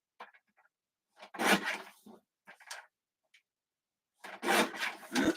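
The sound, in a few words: trimming cardstock for a card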